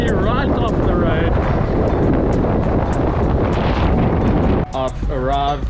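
Strong wind buffets the microphone on a mountain bike ride along a coastal road from Cape Town, a loud continuous roar that drops away near the end as a voice starts talking.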